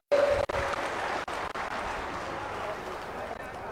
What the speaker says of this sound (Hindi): एक बार जोरदार ताली बजा के माननीय मुख्यमंत्री जी